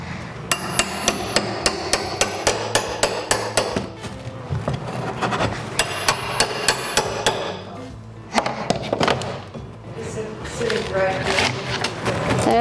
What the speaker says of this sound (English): I'm trying to rip off the drywall so that I can access this right here